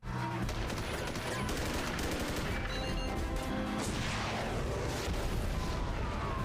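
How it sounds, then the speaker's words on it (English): Rapid bursts of gunfire and explosions from the TV show Agents of S.H.I.E.L.D. crackle in dense, overlapping volleys, loud and continuous across the scene, with faint voices mixed in. "Why do I hear gunfire?"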